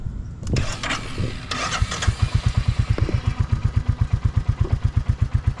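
Motorcycle engine in a parking lot, starting up and then settling into a steady, rapid, pulsing idle as more throttle is applied; close and fairly loud, with no talking.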